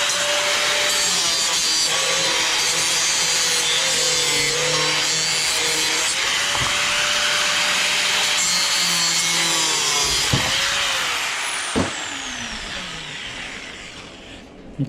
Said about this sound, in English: now we'll see if we can't get these rivets out of here